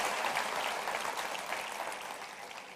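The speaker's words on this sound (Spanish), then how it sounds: "dale otro aplauso al Rey" A church congregation applauds during a Spanish-language Sunday service, a thick, bright burst of many hands clapping together, fairly loud and steady before easing slightly.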